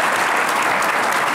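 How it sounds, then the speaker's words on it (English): Audience applause fills a panel discussion hall, steady and dense clapping from a crowd, close and loud throughout. "Give him a round of applause"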